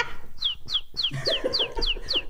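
A man imitates a bird with his voice, a quick series of about seven sharp, high chirping whistles in a steady rhythm, close and clear, with faint room sounds beneath.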